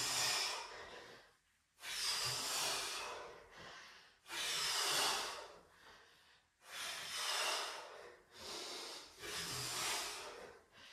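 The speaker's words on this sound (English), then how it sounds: "don't forget to breathe out. And breathe it in as you go down." Heavy, hissing breaths during squat exercises in a fat-burning workout, long forceful inhales and exhales in a slow repeating rhythm with short quiet pauses between, close to the mic and without speech.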